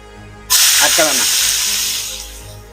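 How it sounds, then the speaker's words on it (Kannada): Onions dropped into hot oil already tempered with mustard seeds, cumin and asafoetida burst into a sudden loud sizzle. The close, hissing fry then eases and fades over the next two seconds. "ಈರುಳ್ಳಿ ಚೆನ್ನಾಗಿ ಫ್ರೈ ಆಗಬೇಕು,"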